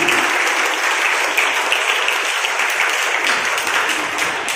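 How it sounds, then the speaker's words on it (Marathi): Loud, dense applause from a crowd of women parents at a school seminar, steady clapping filling the room without letup. "एकदा या महिला पालकांसाठी जोरदार टाळ्या बघा."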